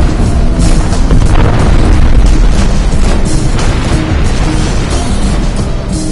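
Space combat explosions in the game Rebel Galaxy as a target is destroyed, a loud, continuous rumbling boom with dense low-end roar filling the whole stretch.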